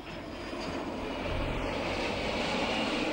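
A Yakovlev Yak-141 jet aircraft engine produces a steady, loud roar that builds slightly and holds with a broad rushing hiss, with no speech.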